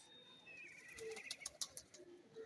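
Pigeon calls faintly amid soft chirps and light rustle, a few brief coos and tweets scattered over a quiet background.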